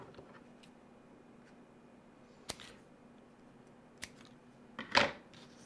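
Scissors cut a piece of plastic garbage can mesh in a quiet room, giving a few isolated sharp snips spaced seconds apart, the last one louder and more rasping.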